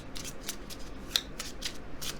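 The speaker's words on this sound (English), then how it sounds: "let's shuffle this tiny mini deck and draw a few more tarot cards for you" A small mini tarot deck being shuffled by hand, giving soft repeated papery riffles and slaps at an irregular pace, close and fairly quiet, with no talking.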